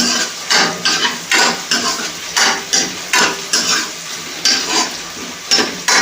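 Hot tempering poured into saag sizzles loudly in the pan, repeated bursts of frying hiss roughly every half second, mixed with stirring and clinks of a utensil against metal, no voices.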